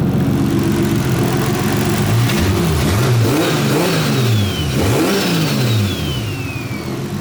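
A 2JZ engine swapped into a Nissan S14 runs in a small home garage, loud and close. Its steady drone is broken by several quick throttle blips that rise and fall. No one speaks.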